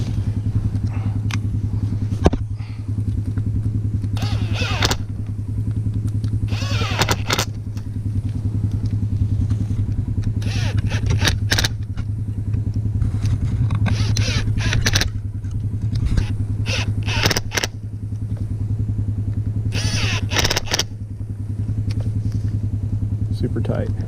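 A winch hauls a backyard zip line cable taut, its steady low motor drone running throughout with intermittent clanks, scrapes and thuds, while someone talks over it.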